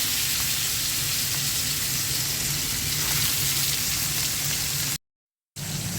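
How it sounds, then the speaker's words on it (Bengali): Fish pieces, head included, frying in hot oil in a pot, giving a loud steady sizzle and crackle that fills the whole span and cuts out briefly near the end. "এখন মাছগুলো ভেজে নেব।"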